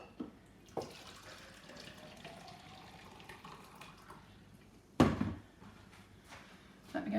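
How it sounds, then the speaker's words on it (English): A kitchen tap runs to fill a jug with water during cake decorating, a faint steady hiss broken by a sharp clunk midway and a few small knocks nearby. "Let me get myself a jug of water."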